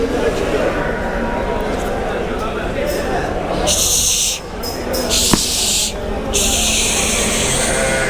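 Six-month-old Merino lambs at the Gönen livestock market bleat amid steady crowd and market noise, with people talking nearby throughout.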